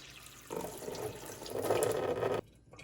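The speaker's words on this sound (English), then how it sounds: "So 1 cup of water in the Instant Pot." Water pours from a cup into an Instant Pot in a home kitchen, a steady splashing gush for about two seconds that swells louder near the end before stopping abruptly.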